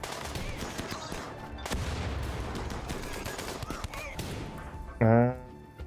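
Rapid gunfire from a RimWorld battle, bursts of shots crackling almost nonstop, ending in a short tonal sound near the end.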